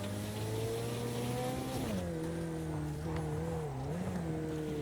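Exotic McLaren cars race on dirt in a racing video game. A steady engine drone shifts pitch as the car accelerates and slows, with a continuous rumble close up.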